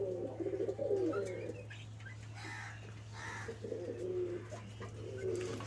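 Pigeons cooing in a loft: low, throaty coos repeat in soft bursts over a steady background hum, with faint chirps between them.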